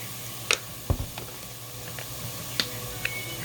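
Meat seasoned with seasoning salt, garlic salt and pepper browns in a pan for chili, giving a soft steady sizzle broken by a few sharp pops and clicks, with no talking.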